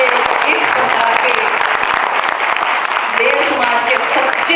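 A crowd of children applauds at the Dev Samaj Mahotsav 2025 gathering, dense and loud clapping that runs without a break, with a voice audible at times above it.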